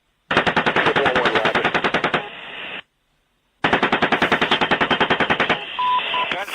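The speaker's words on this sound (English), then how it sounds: "We're getting shot at. We're going to shoot him back." Machine gun fire in a video game firefight comes as two long, rapid bursts of close, loud shots separated by a brief silence, with a short trailing tone after each burst.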